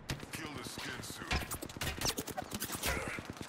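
Rapid gunfire in the shooter game Apex Legends: dense, repeated shots in quick bursts, with voices talking over the action.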